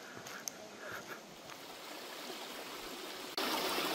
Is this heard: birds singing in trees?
no